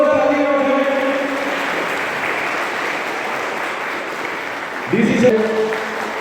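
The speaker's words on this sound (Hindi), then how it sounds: "एक बार जोरदार तालियां हो जाए मैम के लिए।" Loud, continuous audience applause fills the hall at a Save Water awareness program in Kathua, steady throughout, with a voice speaking over it near the start and again toward the end.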